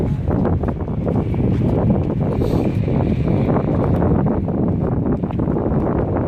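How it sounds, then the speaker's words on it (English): Strong wind blowing outdoors, a loud continuous rushing roar buffeting the microphone for the whole stretch, with no voices. "it's beautiful, but it's windy"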